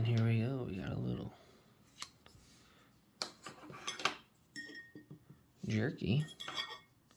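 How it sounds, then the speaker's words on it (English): Plastic camping utensils, a fork, spoon and knife, clicking and clattering as they are handled, with several sharp taps and rattles spread between stretches of a person talking nearby. "So there's a fork, spoon, knife."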